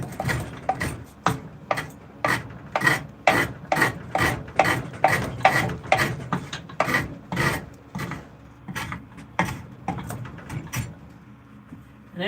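Hand plane shaving wood for a spoon, a series of close, rhythmic rasping strokes about one per half second, each a short scratchy swipe with brief pauses between.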